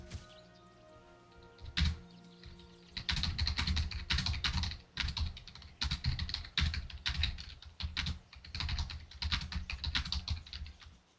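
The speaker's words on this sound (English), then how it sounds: "there's a lot of typing" Rapid clattering of computer keyboard keys in close, uneven bursts of strokes with brief pauses, loud and unaccompanied by speech.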